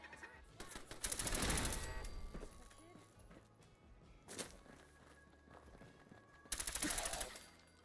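Turret gunfire in the video game Fallout 4 arrives as three rapid automatic bursts, a long one at first, then a short burst and a final loud burst, with a voice speaking amid the game noise.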